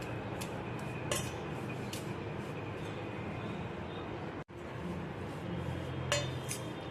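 A raw mango rosti mixture with garam masala and cheese being stirred in a bowl, with light spoon clinks and scrapes scattered over a steady kitchen background.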